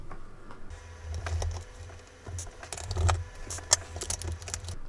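Small screws being removed from the keyboard of a Zenith Supersport SX laptop, heard as scattered close clicks, light taps and a screwdriver scraping against metal and plastic, with no talking.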